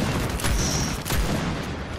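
Loud pistol gunfire in a video game, a couple of sharp close shots over a dense, noisy game background.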